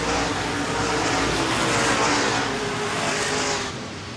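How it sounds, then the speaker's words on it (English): Modified race cars roar around Angola Motorsport Speedway on championship night, a loud, continuous dense engine drone from a pack of cars that fades slightly at the end. "Just 10 laps remaining. 9 to go at the line as Zach Henderson continues to cruise away"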